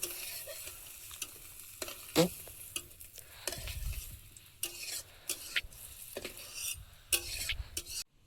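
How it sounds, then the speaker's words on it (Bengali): Fried bitter gourd being lifted from hot oil, with a low steady sizzle under scattered scraping and stirring clatters from a utensil against the pan, close and fairly quiet. "উচ্ছেগুলো ভেজেছি, এবার তুলে নেব"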